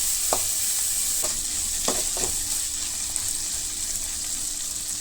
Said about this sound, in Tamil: இப்போ பொடியாக கட் பண்ணி வச்சுருக்க கேரட், பீன்ஸ், குடமிளகாய் இது மூணுமே சேர்த்து நல்லா வதக்கிக்கணும்